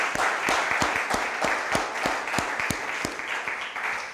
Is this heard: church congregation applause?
yes